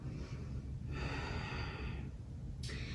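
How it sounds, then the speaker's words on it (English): During an upper-body yoga sculpt session, a single long exhale breathes out close to the mic, soft and airy, followed by a brief sharper intake. "breathing out,"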